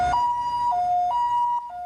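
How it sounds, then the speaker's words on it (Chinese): An ambulance siren wails on its way to a childcare centre, alternating between two steady pitches in a clear, loud hi-lo pattern with faint traffic rumble underneath. "救护车用上紧的速度赶到托婴中心"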